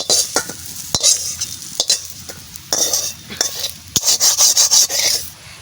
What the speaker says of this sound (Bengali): সবিন কেরম লাল লাল করে ভেজে নিচ্ছি